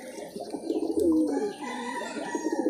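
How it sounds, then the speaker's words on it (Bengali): Several pigeons coo repeatedly and close by as they gather on the ground to feed, their throaty rolling calls overlapping with no talk. "হ্যাঁ, এই যে এইটা কিন্তু সেই কবুতরের মা।"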